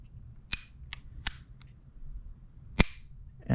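A North American Arms Black Widow .22lr mini revolver dry-fires on snap caps, giving five or six sharp, isolated metallic clicks at uneven intervals, close up in a quiet room.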